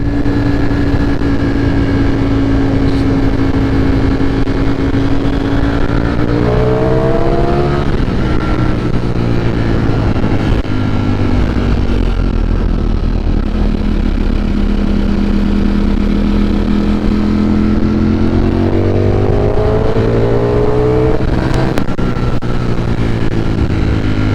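A Ducati V4 Streetfighter motorcycle revs loudly and close by, its engine note sweeping upward through repeated accelerations over a continuous roar.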